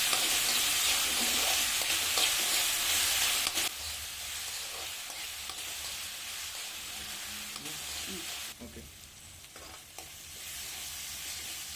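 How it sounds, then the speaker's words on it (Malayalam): Mango pickle is mixed with salt in a hot pan, with a continuous loud sizzle and hiss under steady stirring and scraping that quiets partway through. "യോജിച്ച് വരുമ്പോൾ ഉപ്പ് ചേർത്ത് കൊടുക്കാം. നന്നായി മിക്സ് ചെയ്യാം."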